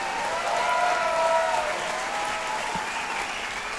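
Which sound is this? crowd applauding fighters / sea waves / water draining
crowd applauding fighters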